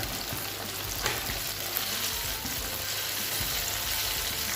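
Flour-coated chicken pieces, four at a time, deep frying in hot oil for KFC-style fried chicken, producing a loud continuous sizzle and crackle with a few sharper pops, close up and alone.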